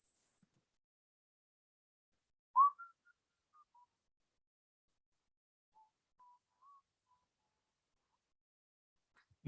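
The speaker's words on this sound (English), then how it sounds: "I can whistle a tune." A person whistles a short tune in a few faint, clear notes separated by long silences in an otherwise quiet room.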